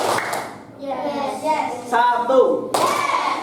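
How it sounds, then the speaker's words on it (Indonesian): A fifth-grade class claps hands together in a classroom rhythm game, with a short burst of claps at the start and another near the end, and an adult voice talking in between. "Tepuk satu,"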